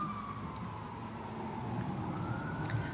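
An ambulance or fire truck siren wails steadily in the distance, its tone sliding slowly upward over a constant background hum.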